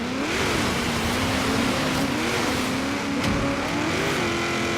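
Race cars in Forza Horizon 3 roar loudly and continuously, engines rising and falling through gear changes with a brief dip midway, close and alone without talk.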